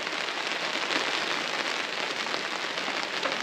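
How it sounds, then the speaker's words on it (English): Heavy rain drums steadily on the roof of a Zempire Pronto air tent on a camping trip, a dense, loud, unbroken patter heard close overhead with no talk. "I don't know if you can hear the rain on the roof or not, but it's pretty loud"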